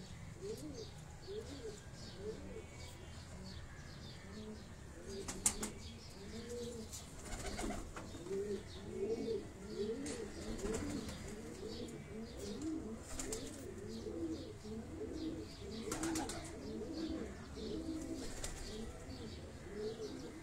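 Many pigeons in a breeding collection coo continuously in overlapping, rhythmic rolling calls, close and moderately loud, with occasional sharp clicks and wing sounds among them.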